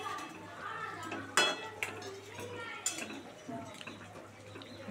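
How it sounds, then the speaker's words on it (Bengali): Pieces of snakehead fish go into a pot of boiling water, with a few sharp clinks and knocks of utensil against metal over a low bubbling background and a faint voice. "এই যে মাছগুলো দিয়ে দিচ্ছি"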